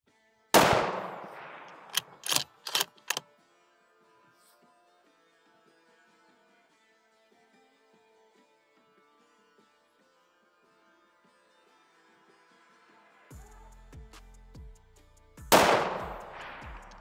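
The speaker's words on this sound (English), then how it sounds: "Use your two shots to hit." A Ruger Precision Rifle in 6.5mm Creedmoor fires at targets: one loud blast, then three sharp shots in quick succession, a long quiet stretch with faint ringing, then another loud crack near the end.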